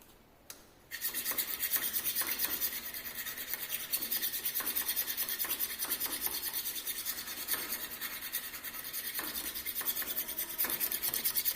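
Hand file rasping across a metal workpiece in a fitting shop, steady repeated rub strokes close up for a finishing pass, continuous and alone after a brief quiet start.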